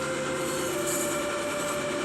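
A freight train rolling along at speed in the Train Sim World game, a continuous steady rumble with a sustained whining tone and faint track noise, close and even throughout.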